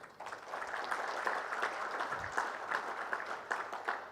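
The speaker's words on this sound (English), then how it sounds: "Ladies and gentlemen, can we put a bigger round of applause" Audience applause at an Indian steel and engineering exports conference in a hotel hall, a steady, moderately distant wash of many hands clapping that keeps an even level throughout.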